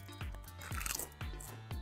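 Ballreich's potato chips being eaten up close, with a few crisp crunching bites spaced roughly half a second apart and soft chewing in between, quiet and with no talk.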